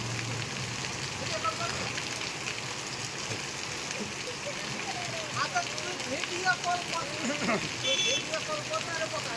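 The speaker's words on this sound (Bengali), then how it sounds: "আমাদের এই ভালুকা ভালুকাতে কত মানে জোরে বৃষ্টি হচ্ছে" Heavy rain in Bhaluka, a dense steady hiss of rainfall on surfaces with a voice talking over it.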